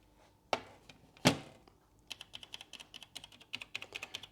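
A Danish RC759 Piccoline computer keyboard, built around an Intel 80186, opens with two heavy thumps, then rapid, crisp keystrokes clatter in an uneven typing rhythm, close and quiet with no talk.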